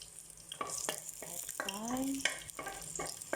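Olive oil sizzles and crackles in a pan, soft and close, with a few sharp clinks and scraping stir sounds breaking through the frying hiss.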